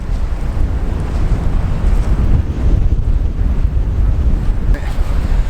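Strong wind buffets the microphone at the seashore on Landguard Point, Felixstowe, a steady loud rushing roar with waves and surf blended beneath, continuous for several seconds with no talk.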